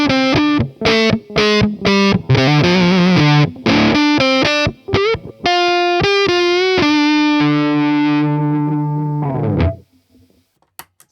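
Foldable electric guitar played through fuzz with volume full up and tone rolled off: a run of short choppy distorted notes, then sustained bends and held phrases that ring out and cut to silence near the end; close, loud, no talk.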